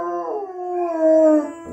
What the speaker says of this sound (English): Your dog produces a long howl if he is feeling lonely.